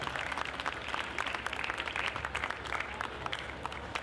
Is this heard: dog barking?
no